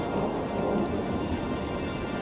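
Thunderstorm with steady heavy rain hissing on surfaces and a low thunder rumble underneath, dense and constant throughout, with no voices.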